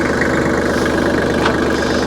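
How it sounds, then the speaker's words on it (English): A farm tractor engine running while stirring hay, a loud, close, steady mid-pitched rumble with a faint rhythmic knock and no voices. "We'll put our tractor in four-wheel drive because it slopes on that far end."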